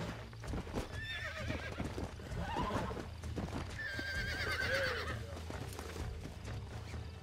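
Horse galloping and neighing in the video game Red Dead Redemption, rhythmic hoofbeats with a loud whinny midway, heard alone with no talk over it.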